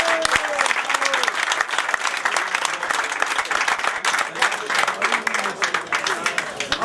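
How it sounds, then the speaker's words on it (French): Applause from an audience at the 2018 La Broque hill climb race, dense and sustained with steady clapping for the whole stretch, while an announcer's voice carries faintly beneath it. "vos applaudissements pour Benji Benjamin Yelmi"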